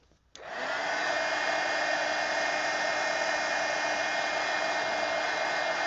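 A hair dryer dries paint in an art journal. It switches on after a brief quiet moment and settles into a loud, steady, even whoosh that runs unbroken to the end.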